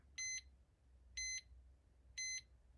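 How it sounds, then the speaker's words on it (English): Three short electronic beep bursts from the alarm of a Nintendo Game & Watch Mickey Mouse Widescreen (MC-25) handheld, evenly spaced about a second apart, high-pitched and clear against a quiet background. "the alarm is going off"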